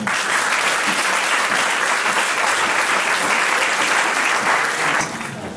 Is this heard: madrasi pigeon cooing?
no